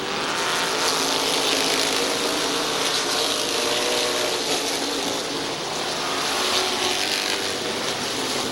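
Race cars at Midvale Speedway roar past in a dense, continuous engine drone during a 20-lap consolation race, rising and falling slightly as the pack circles, loud and sustained with no talk.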